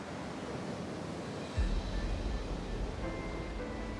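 Hurricane wind and crashing surf batter a coastline in the Jurassic World Evolution 3 video game, a continuous roaring wash of noise that swells louder partway through.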